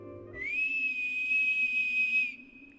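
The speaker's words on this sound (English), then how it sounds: "A nasty whistle swept across the yard, interrupting me." A sharp, steady whistle in the game Tiny Bunny, set in a snowy yard, holds one long unbroken high tone for nearly two seconds, loud and close, after a brief spoken voice, then cuts off.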